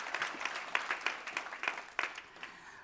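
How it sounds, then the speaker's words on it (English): A conference audience at an environmental technology event claps for a speaker leaving the stage, a moderate patter of hands that swells in small bursts and fades out toward the end. "big round of applause for Mr. Streitner"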